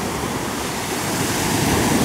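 Waves of the Azov Sea at Golubitskaya washing steadily onto the shore, a continuous close surf rush with wind noise and no voices.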